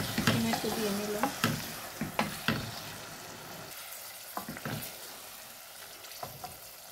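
Tomatoes dropped into a hot frying pan for a fish curry, sizzling steadily while a spoon scrapes and stirs in quick repeated strokes, fairly close and quiet, with no talking.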